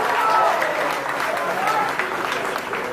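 Applause from an audience at an evening political gathering honoring Haiti, steady and dense for about three seconds, with voices mixed in over the clapping.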